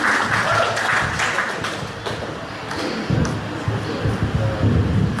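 An audience applauds at an Easter celebration gathering in Jakarta, a continuous rustle of clapping that dips midway then swells again, with low background rumble and murmuring.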